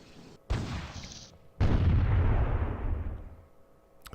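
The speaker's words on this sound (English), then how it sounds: "Let's see if I can go there and shoot the horse artillery." Two heavy artillery blasts from horse artillery in the strategy game Imperialism II, a short sharp boom followed about a second later by a louder, deeper explosion that rumbles and slowly fades, with no talking.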